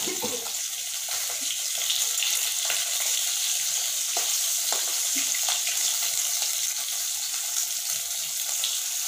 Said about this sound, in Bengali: আর মাছটা একটু খড়া খড়া করে ভাজি